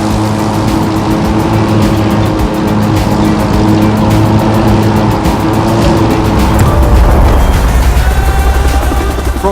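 A racing car in The Crew 2 speeds through a race with a loud, continuous engine roar and shifting pitch, swelling near the end amid other motor noise.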